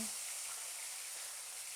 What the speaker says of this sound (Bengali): তেল আমার জ্বলছে, গরম হয়ে গেছে। মাছগুলো ছেড়ে দিচ্ছি।